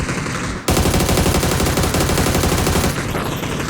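Automatic gunfire in the battle royale game PUBG: a rapid, loud burst of shots that starts abruptly and fires continuously for a couple of seconds before tapering off.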